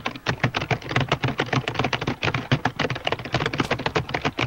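Rapid clattering keystrokes on a computer keyboard during a Minecraft session, a dense, even stream of close, crisp taps with no pauses.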